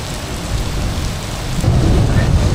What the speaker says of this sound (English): Well, this rain just keeps getting worse and worse.